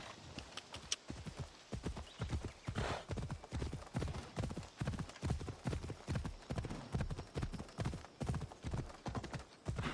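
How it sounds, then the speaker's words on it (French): A horse in the video game Assassin's Creed Odyssey: hooves clop in a fast, steady gallop that continues throughout, with a brief whinny near the start. "On va y aller à cheval parce que"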